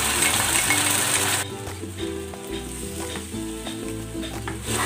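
Squid sautéing in a pan with oyster sauce, a loud steady sizzle that drops to a softer bubbling fry with stirring clinks partway through.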